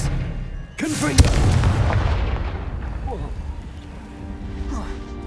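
Confringo blasting spell explosions in the Hogwarts Legacy video game, a sharp booming blast followed by a long rumbling roar that fades slowly, loud and close, with a voice calling out over it.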